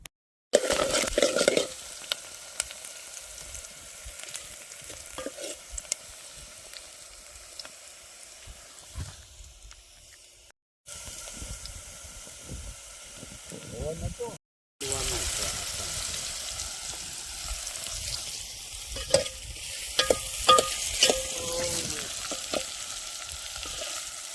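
Onions frying in hot oil for a Gujarati vegetable dish, a steady loud sizzle with stirring scrapes, broken by two brief silent gaps and rising again near the end.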